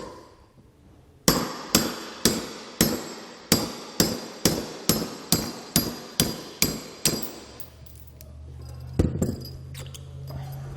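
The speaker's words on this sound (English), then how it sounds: "and a hammer, and we're just going to drive that out." About fourteen sharp metallic strikes from a hammer on a punch driving a pin out of a Blue Ox tow bar adapter bracket, evenly paced and close, followed by softer handling and a low hum.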